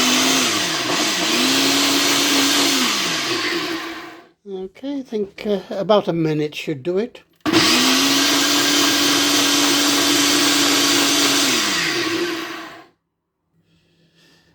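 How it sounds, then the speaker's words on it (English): A kitchen blender whirring through a beetroot and banana drink with honey, two loud sustained runs with the motor pitch dipping under load, separated by a brief pause in which a person speaks. "Let's give it a good blend."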